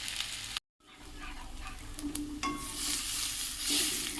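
Sizzling oil as basanti pulao is fried and stirred over medium flame, a close, steady crackle and hiss broken by a brief dropout near the start, then swelling louder with scattered stirring scrapes.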